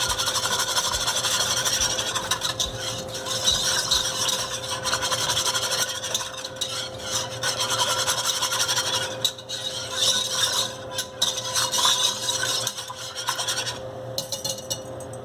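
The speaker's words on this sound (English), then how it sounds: "just want to whisk this all together" A whisk scrapes and rubs continuously through the ingredients of a boxed side dish with broccoli, making a dense, rasping swish with squeaky edges that carries on steadily throughout, close up and unaccompanied by speech.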